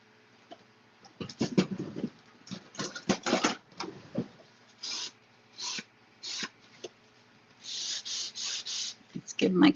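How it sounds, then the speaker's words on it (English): A paper greeting card's edge is sanded by hand in a series of short, close scratchy rubbing strokes, some quick bursts and some longer sweeps, with brief pauses between them. "give my card a little sand here."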